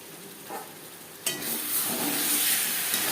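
Catla fish and potato curry cooks in a pan over a gas flame turned low: a quiet start, then a sudden loud sizzling hiss that holds steady and close.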